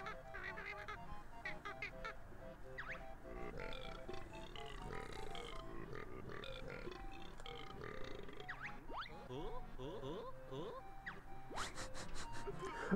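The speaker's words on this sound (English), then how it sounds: "Captain Blubber here. Who talks to us by burping." Captain Blubber in Banjo-Kazooie speaks in gibberish burps and grunts, a string of honking, belching syllables over steady game music, running continuously and fairly loud.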